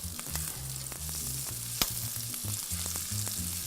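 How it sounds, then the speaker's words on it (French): Finely sliced onions sizzling in a pan while a spatula scrapes up the browned bits from a ham stew base, a steady crackle with rhythmic scraping and one sharp tap. "On va y jeter des oignons finement émincés."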